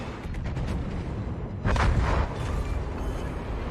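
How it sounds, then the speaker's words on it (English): Heavy battleship guns firing in the naval combat game World of Warships, a deep rumbling boom that swells around the middle over a continuous low roar of game noise. "We know he's going to be firing."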